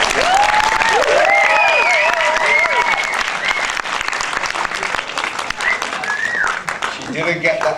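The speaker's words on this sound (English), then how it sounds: "she deserves another round of applause for acting" An audience at a film festival applauds, a dense and sustained burst of clapping that carries on loudly throughout while a voice talks over it.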